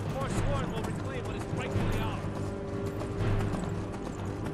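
Rhythmic clip-clop of horse hooves trots steadily beneath a busy Skyrim game soundscape, with faint mechanical noises and a voice mixed in.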